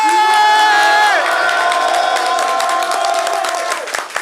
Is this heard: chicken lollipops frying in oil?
no